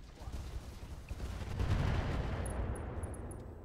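Mech weapons open fire in a modded BattleTech battle, a building rumble of rapid thudding shots that swells into a dense barrage, followed by a few faint high electronic beeps.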